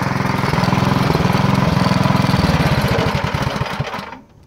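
A 24-inch Craftsman snowblower engine idles steadily and close by with an even, chugging pulse, then cuts out and fades to quiet in the final half second.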